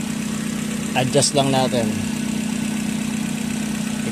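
A Mazda Lantis 323F engine idles with a steady, even hum that runs the whole time, and someone talks briefly over it near the start.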